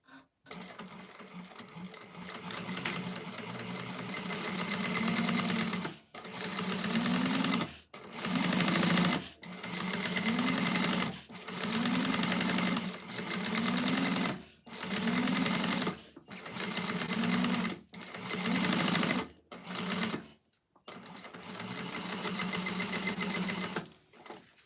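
A sewing machine chain-stitches the exterior of a bowler bag in a run of loud, close bursts, each lasting a couple of seconds and separated by brief pauses, with the motor note rising at the start of each burst.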